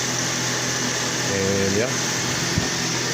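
A Toyota 2ZZ-GE engine running after a timing cover gasket replacement, a steady mechanical hum with a brief rising tone midway as a voice speaks over it.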